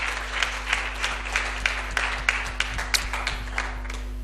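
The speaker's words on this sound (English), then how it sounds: "Let's clap for our master" A congregation at a church youth and Fathers Day service claps for their master, producing a continuous wash of applause with sharper individual claps standing out over a low steady hum.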